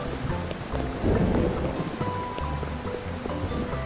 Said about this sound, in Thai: มีเสียงฟ้าร้องฝนตกมาแต่ไกลเลย